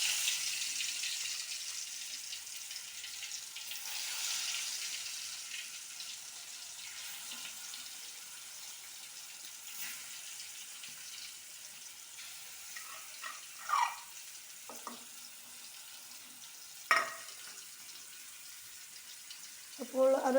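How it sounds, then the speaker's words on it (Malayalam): Chicken frying in hot oil, a steady soft sizzle and crackle throughout, fairly quiet, with a few sharper pops and clinks near the end. "അപ്പോൾ നമ്മുടെ ചിക്കൻ അങ്ങനെ ഫ്രൈ ആയിക്കൊണ്ടിരിക്കുകയാണ്"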